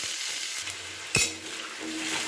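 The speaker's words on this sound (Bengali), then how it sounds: "এবার আলুগুলোকে এর সাথে ভেজে নিচ্ছি" Potato pieces fry in hot oil tempered with cumin seeds and bay leaves, making a dense, even hiss. A single sharp metallic clink of a utensil against the pan cuts through midway.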